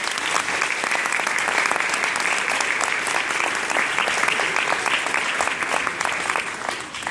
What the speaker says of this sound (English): let's give an applause to everybody who's here supporting us